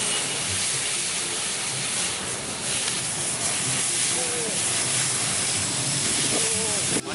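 Hot cooking oil sizzling with a steady, dense, loud hiss that holds for several seconds, close by, with voices faintly underneath.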